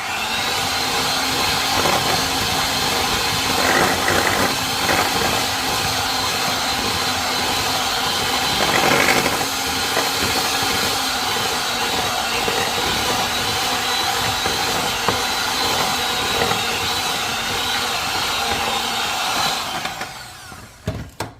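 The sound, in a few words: electric mixer beating flour, eggs and walnuts for oatmeal bars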